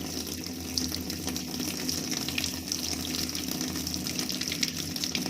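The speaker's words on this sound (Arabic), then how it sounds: "هنضغط ستارت، هي بتسحب المية لوحدها يا بنات." A Toshiba 10 kg top-loading automatic washing machine draws in water on a tub-cleaning cycle, giving a steady, moderately loud gushing rush with a low pump-like hum underneath, alone and continuous.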